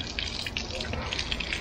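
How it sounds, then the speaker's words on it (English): Water from a hose flushes out an RV holding tank, a steady rushing gush with splashing, close and fairly loud, continuing without pause. "We'll put our hose in there and flush it out really good."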